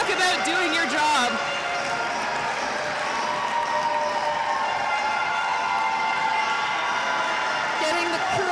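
Crowd at the men's Scottish Cup volleyball final between City of Glasgow Ragazzi and City of Edinburgh roaring and cheering after a service ace, a dense sustained wall of cheers and applause with a commentator talking over it.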